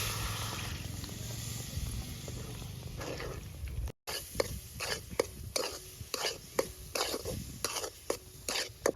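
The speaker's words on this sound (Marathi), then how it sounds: "अर्धा लिटर दूध घेतलंय आपण, ते त्याच्यात टाकून घेऊ" Half a litre of milk is poured into mango sheera with almond pieces and stirred in a pan, giving quiet, steady scraping and swishing strokes with a faint simmering hiss underneath.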